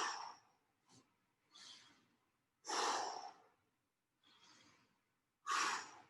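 Slow, steady breaths during an adaptive fitness workout: six separate audible inhales and exhales, close and fairly loud, with quiet pauses between them and no talking.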